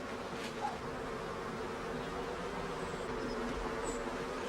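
Bees buzzing in a dense, continuous drone, a swarm humming steadily nearby with no voices.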